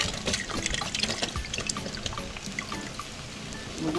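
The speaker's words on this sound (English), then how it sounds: "I'm gonna put some chicken broth." Chicken broth pours into a pot as a steady splashing, gurgling stream of liquid, close and continuous for a few seconds with no talking.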